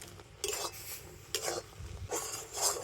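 A spoon scraping and stirring semolina mixed with water in a pan over low heat, a few distinct scraping strokes with quiet pauses between them, close and fairly soft.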